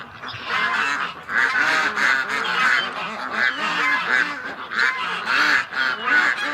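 A group of ducks calls close by with loud, continuous honking and quacking, many overlapping voices in a busy, steady chorus.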